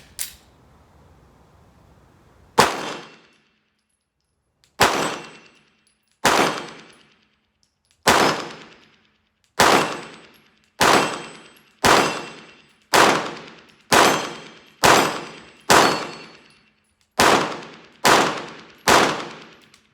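A Shadow Systems MR920 Combat pistol fires about a dozen loud, sharp single shots outdoors with Minuteman ammunition, spaced roughly a second apart and each followed by a short ringing decay.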